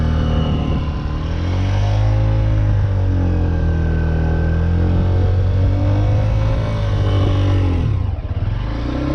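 A Honda motorcycle engine revs loud and close while riding in second gear, its pitch rising and falling steadily over several seconds with a brief dip near the end.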